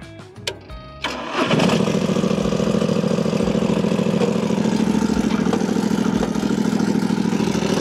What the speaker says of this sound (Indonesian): Sekarang kita langsung nyalakan aja